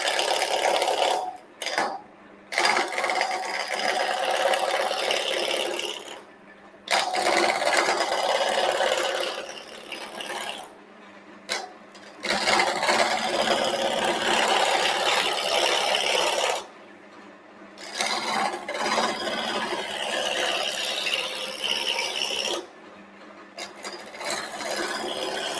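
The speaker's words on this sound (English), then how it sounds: "I'm just going to start roughing out the blank." Wood lathe spinning at about 1000 RPM as a gouge roughs out a turning blank, a steady loud mechanical whir with scraping tool contact that drops out briefly several times.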